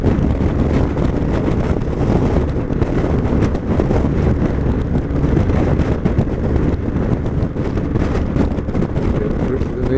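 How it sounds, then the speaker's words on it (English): Strong wind sweeps across a big open space, a loud, steady, close rumbling buffet on the microphone that never lets up, with no clear voices over it. "Clearly get a lot of wind here."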